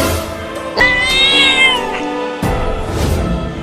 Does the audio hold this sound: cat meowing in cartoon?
yes